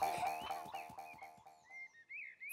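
Cartoon frog croaking from a children's animated show, a run of evenly spaced, fairly loud croaks with a bright tonal, musical quality, fading into a couple of higher sliding tones near the end, with no talk.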